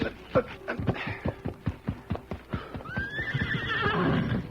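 A horse whinnies loudly as its hooves clip-clop in a quick, steady rhythm close by, while a soldier runs to it on the frontier near a fort.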